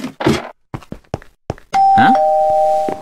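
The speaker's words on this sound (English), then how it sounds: "It keeps ringing the doorbell!" Doorbell ringing inside a house in the Minecraft video game, where a sustained electronic chime tone rings loudly and steadily after several short knocks and thuds.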